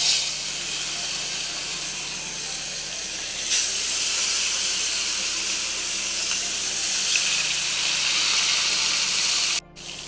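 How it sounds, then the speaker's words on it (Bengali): Marinated fish pieces, without turmeric, go one by one into hot oil to fry, setting off a loud, continuous, close hiss and sputter that surges briefly partway through and cuts off sharply near the end, with no voices. "তো এবার এক এক করে মাছগুলো ছেড়ে দেব।"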